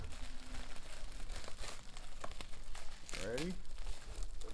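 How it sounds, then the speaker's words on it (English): Layers of plastic wrap are peeled and torn from a consignment package, with close crinkling and a brief ripping tear, while a voice speaks softly over the handling. "That was just one layer of plastic."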